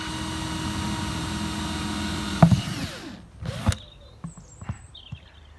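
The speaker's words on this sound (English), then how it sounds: "first things first, drill. Make some decent sized holes. I'm using a 10mm drill bit." A power drill with a 10mm bit boring holes in a plastic plant pot runs steadily for a few seconds, then breaks off. Scattered clicks and knocks follow.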